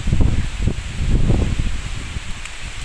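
Wind rustling through leaves on an integrated farm, a close, steady whoosh of foliage with gusty low rumbles, alone without talk.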